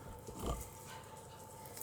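A small dog snuffles and grunts close by in a home kitchen, a short burst of snorting sounds over low background noise.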